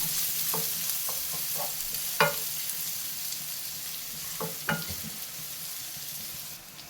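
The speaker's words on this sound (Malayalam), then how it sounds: "ഇത് നല്ലോണം ഇളക്കി ഒരു ഗോൾഡൻ കളർ ആകുന്നവരെ വഴറ്റിയെടുക്കാം." Chopped onion sautéing in a pan: a continuous soft sizzle punctuated by several sharp scrapes and knocks of a spoon stirring, alone without speech.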